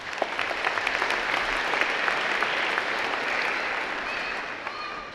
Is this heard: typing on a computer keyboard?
no